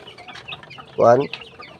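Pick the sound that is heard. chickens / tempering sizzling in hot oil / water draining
chickens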